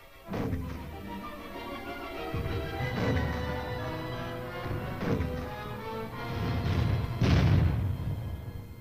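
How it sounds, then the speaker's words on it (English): Army weapons fire during a military training exercise, several heavy booming blasts at irregular intervals over a low rumbling background, some distance away. "In other sections, other weapons are fired."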